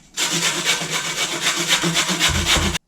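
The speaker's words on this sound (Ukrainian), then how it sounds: "натру на тертушці." A carrot is rubbed steadily over a kitchen grater in a home kitchen, a continuous close, loud scraping rasp with slight rhythmic pulses and no talking.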